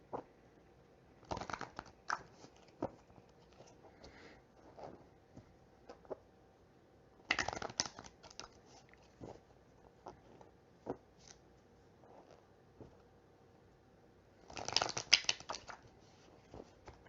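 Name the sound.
shuffling large tarot cards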